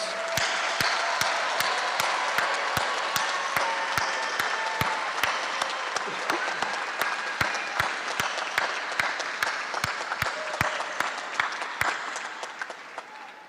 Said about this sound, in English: Give our graduates a round of applause.